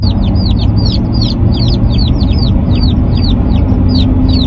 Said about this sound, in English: I just wanted you guys to hear the chicks.